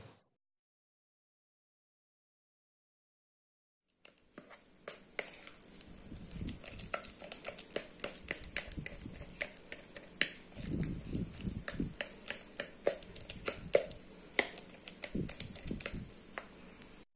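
Batter for sugar-free healthy muffins mixed by hand in a bowl, a soft, irregular patter of squelching and tapping that starts after a few seconds of silence and continues close and steady.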